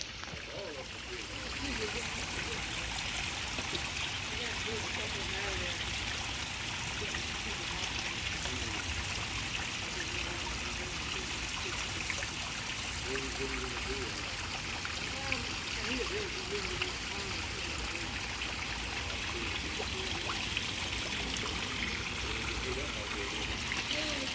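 Water from the Tad waterfall flows in a steady, unbroken rush, a constant broadband wash of moderate loudness that holds for the whole stretch, with faint wavering sounds beneath it.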